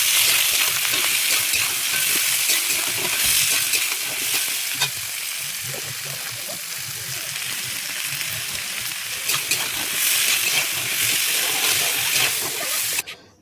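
Onions frying in hot oil with spices in a pan for a chicken dish: loud, close, continuous sizzling and crackling, with occasional stirring scrapes, ending in a sudden stop.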